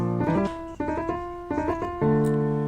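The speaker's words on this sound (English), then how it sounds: "And I can do grace notes, and it's going to give details to those grace notes I'm playing." Keyboard phrases with quick grace notes leading into held chords, played with the release at zero so each chord stops cleanly. Four clear clusters follow one another, alone and fairly loud.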